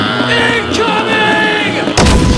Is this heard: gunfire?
yes